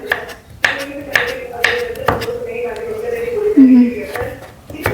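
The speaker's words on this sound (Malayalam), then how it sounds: "ക്യാരറ്റ് അരിഞ്ഞു കഴിഞ്ഞാൽ ഇനി പയറാണ് കേട്ടോ" A knife chops carrots on a board in a home kitchen, giving four or five crisp, evenly spaced strikes early on while someone talks throughout.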